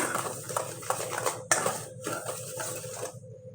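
Dry ingredients with baking powder and salt stirred briskly in a bowl, heard as close, continuous scraping and rattling with rhythmic clinks of utensil against the bowl, then a sudden stop.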